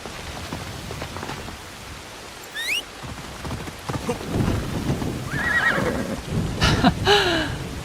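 A summoned horse in a video game whinnies twice amid rain falling on surfaces and soft clip-clop hooves, the neighs clear and fairly close over the steady wet background.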